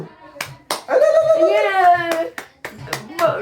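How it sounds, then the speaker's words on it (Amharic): Sharp hand claps ring out at intervals amid speech, several distinct close slaps between a voice that speaks and stretches out a drawn, wavering call. "እንዲህ አጨብጭቡ"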